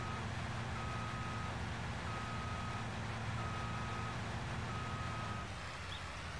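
A New Holland forage harvester reverses in Farming Simulator 19, its steady reversing alarm beeping at a regular pace over a loud, constant diesel engine drone until the beeping stops near the end.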